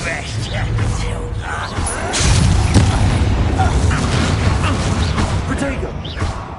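A Confringo blasting spell in Hogwarts Legacy goes off with a loud booming explosion and crashing debris, heavy rumbling that swells midway and lingers under speech.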